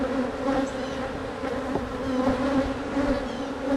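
Honey bees swarming around an open hive, a steady dense buzzing drone close to the listener with no pauses.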